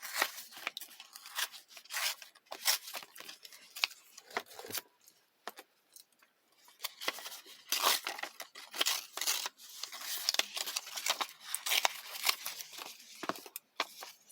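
A paper envelope is torn by hand at a crafting table, giving a series of close, quiet ripping and crinkling bursts with short pauses between them.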